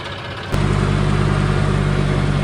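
A tractor engine, unloaded from a truck, starts up after a brief quiet moment and then runs at a loud, steady idle close by, droning evenly to the end with no voices.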